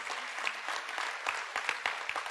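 Audience clapping at a motivational talk, a brief burst of many hands with scattered sharp claps standing out, fairly close and alone without talk.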